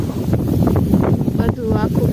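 Breeze rushing across a millet farm field after a sudden rain, a steady broadband wind roar buffeting the microphone throughout, with a person talking over it.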